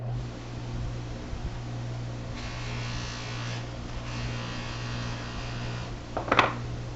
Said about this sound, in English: They are ready to accept the buff from the buffing machine.